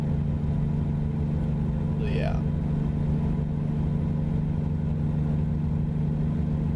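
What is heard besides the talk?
truck engine with louder exhaust in American Truck Simulator video game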